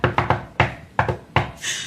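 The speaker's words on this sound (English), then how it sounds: "are you knocking?" Someone knocks on a door with sharp, hollow wooden raps in several bursts, some in quick doubles and some single, close and fairly loud, followed by a brief rustle.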